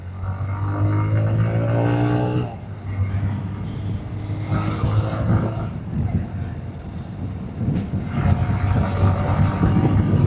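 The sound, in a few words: 2026 TVS Raider motorcycle riding in eco mode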